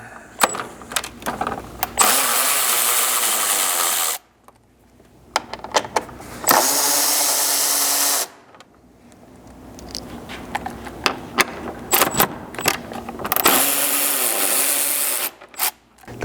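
A power tool with a 10mm socket spins out screws during a front bumper install on a GX 550, giving several loud whirring bursts lasting a few seconds each, separated by quiet gaps and small clicks and rattles.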